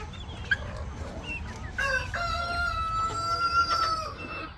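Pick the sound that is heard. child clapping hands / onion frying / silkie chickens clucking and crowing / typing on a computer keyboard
silkie chickens clucking and crowing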